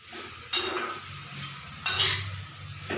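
A utensil scrapes and clinks inside a pot of star fruit fish curry, with two distinct stirring strokes against a soft background sizzle.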